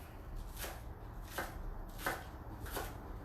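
A knife slices green onions on a cutting board in four crisp, evenly spaced cuts, close and fairly quiet, with no talking.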